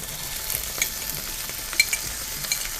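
Kidney and pancreas sautéing with onions and ginger, a steady close sizzle with occasional stirring scrapes and light clinks.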